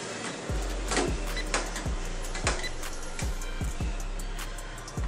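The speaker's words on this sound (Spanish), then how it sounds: "Vamos a sacar el tornillito." A small screw being backed out of an Epson T1110 printer gives a close, steady series of evenly spaced clicks with short whirring tails, about two per second, with no one talking.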